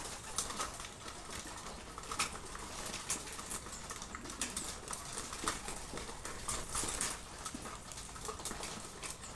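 A flock of pigeons at a feeding spot coos and flutters, producing scattered wing claps and soft calls over a steady outdoor background with no talk.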